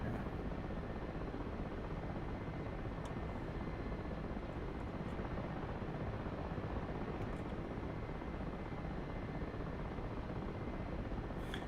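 Mi-8 helicopter flying in the DCS combat flight simulator, a steady loud rotor and turbine drone that runs unbroken throughout, with no voices over it.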